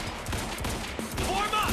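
Gunfire in the video game Quantum Break, a rapid string of shots rattling under game sounds and a faint voice, at moderate level.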